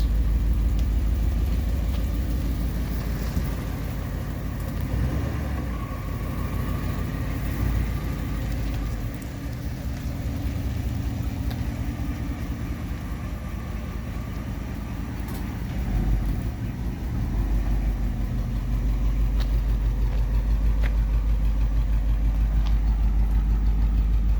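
1959 Ford Fairlane 500 V8 running in first gear, a steady low rumble that stays close and loud throughout with slight swells in revs, no talking.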